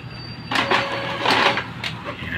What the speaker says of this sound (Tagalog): mag-try tayo mag-print ng 4 na pages